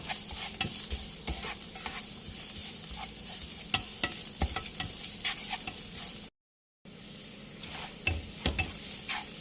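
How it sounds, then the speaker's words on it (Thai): Shallots stir-frying in a pan for Pad Thai sauce, giving a continuous sizzle broken by repeated scraping and clicking of a spatula. A brief silent gap comes near the end. "ผัดไปด้วยกันนะคะ จนกระทั่งหอมนะคะ เหลืองนะคะแล้วก็เกรียมๆนิดๆค่ะ"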